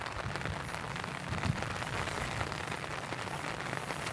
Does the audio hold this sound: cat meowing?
no